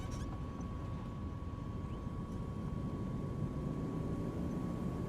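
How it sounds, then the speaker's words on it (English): An airplane engine in Microsoft Flight Simulator, flying a New Zealand domestic route: a steady, loud broadband drone with a constant whine, unbroken throughout, with no talk. "let's turn the music off so we can just listen to the plane"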